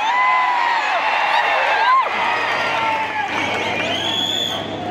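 A huge crowd at a rally in Solapur roars and cheers continuously, loud and close, with whoops and shouting swelling over a dense babble of voices.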